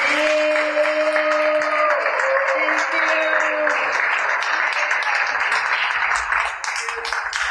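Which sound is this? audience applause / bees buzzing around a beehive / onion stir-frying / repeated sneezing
audience applause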